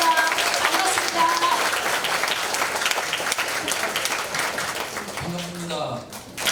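An audience claps in sustained applause to welcome a professor at a lecture forum, dense and even across the room, with voices rising briefly as it tapers off at the end.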